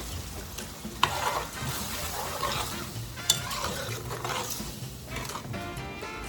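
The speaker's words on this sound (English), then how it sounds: "now we're going to give it a good mix" Beans with seasoning stirred in a big pot for Puerto Rican arroz con gandules in large party trays, giving a steady wet scraping and sloshing with a couple of sharper knocks near the pot, no talking.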